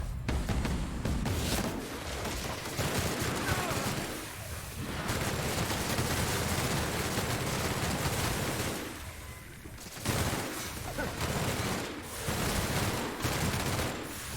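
Sustained rapid gunfire from a weapon in the video game The Outer Worlds rattles on loud and dense, with brief lulls between long bursts.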